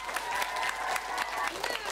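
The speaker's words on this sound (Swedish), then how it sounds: "Stora applåd till Amy." A studio audience applauds Amy Diamond on a 2009 Swedish entertainment show, a steady, dense clapping wash with a few light cheers mixed in.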